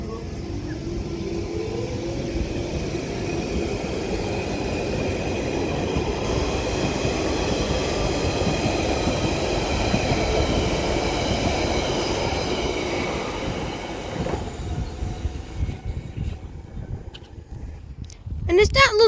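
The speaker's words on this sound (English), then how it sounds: "departing over here is this mysterious Central Line train" London Underground Central Line 1992 stock train departing South Ruislip station, a loud rising rumble of wheels and traction motors with a whining tone, fading as it pulls away, with someone talking over it.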